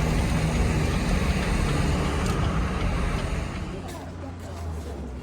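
A car drives through Washington DC traffic near Henry Bacon Drive, steady broadband road and engine rumble dominating, easing slightly toward the end, with surrounding traffic noise and a voice talking over it.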